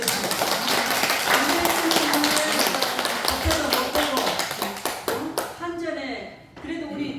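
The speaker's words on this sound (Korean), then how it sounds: "오늘 명사님께 박수 한번 드리겠습니다" A congregation claps together for an honoured guest speaker, with sharp, fairly close hand claps running for several seconds and thinning out toward the end, while voices murmur underneath.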